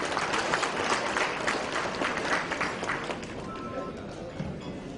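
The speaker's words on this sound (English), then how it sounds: "Can we have a huge round of applause, sir?" A large audience at a formal inaugural event applauds loudly and steadily, a broad wash of clapping that eases a little toward the end, with some voices beneath it.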